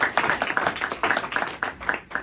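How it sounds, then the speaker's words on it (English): A small audience claps to mark an organization's 25th anniversary at an installation address, a run of distinct, fairly close handclaps with a loose, uneven rhythm, no voices over it. "As we celebrate 25 years of existence, and I think that deserves a round of applause."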